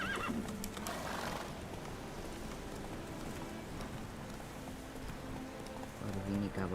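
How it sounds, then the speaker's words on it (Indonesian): Horses whinnying with hoof clip-clop, like a horse race, at moderate distance over a soft rain-like hiss, with neighs near the start and end. "Waduh, ini kah balapan kuda kah?"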